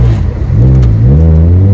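A car engine revs hard through its exhaust, very loud and close, with a rising, wavering growl that climbs in pitch over a couple of seconds.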